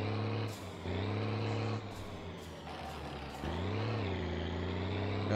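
A heavily loaded truck in My Summer Car takes a curve in a low gear. Its engine drones loud and steady throughout, with short hissing bursts and slight shifts in pitch as it strains along.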